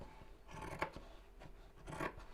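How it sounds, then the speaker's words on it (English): Two bursts of scissors snipping through fabric, a crisp crunching cut about a second apart, close and fairly loud with quiet between. "I may as well just cut this out with scissors."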